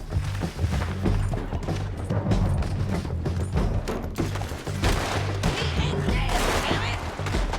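Dense gunfire in Red Dead Redemption 2, a Wild West shootout with rapid, overlapping shots and heavy low booms crowding the whole stretch, loud and continuous with no clear gaps.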